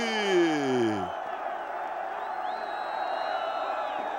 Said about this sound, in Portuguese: Faz a festa a torcida e também os jogadores do Vasco